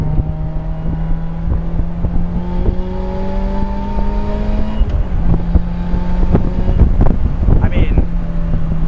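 Open-top driving in a Lotus Elise with a Toyota engine: a loud, steady engine drone mixed with wind buffeting, then a series of sharp knocks and thumps from the suspension and road gravel.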